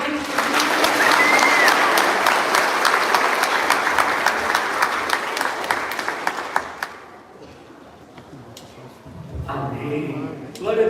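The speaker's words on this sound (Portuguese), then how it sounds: "Você pode aplaudir Jesus." Loud, dense applause from a church congregation fills the first seven seconds, then fades and thins out. A voice speaks over the tail end.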